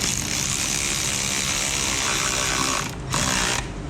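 A tool runs steadily while tightening the lug nuts on a rallycross car wheel, giving a loud continuous mechanical whir that cuts out briefly and then resumes, with no talk.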